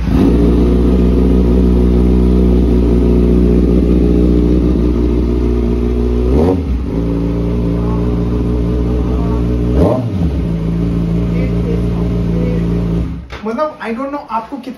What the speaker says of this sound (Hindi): ये अभी डीबी किलर निकाल दिया है and let's start this motorcycle